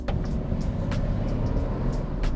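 An Aston Martin Vantage F1 drives at steady speed, giving a continuous, fairly loud rumble heard from inside the car, with no talking.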